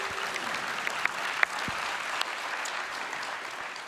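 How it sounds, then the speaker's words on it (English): An audience at a net-zero panel discussion claps as a female guest joins the stage, a dense, even round of applause with a few sharper claps standing out, lasting the whole stretch. "Can we give her a round of applause as she joins us on stage?"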